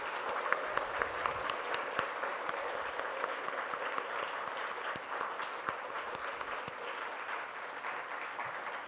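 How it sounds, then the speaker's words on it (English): Audience at a school awards day at Gateway College Kandy applauds the teachers, a long steady wash of many hands clapping at moderate volume with a few sharper individual claps standing out. "Now give a big, big round of applause for these wonderful teachers and the management"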